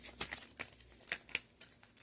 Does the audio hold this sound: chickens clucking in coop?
no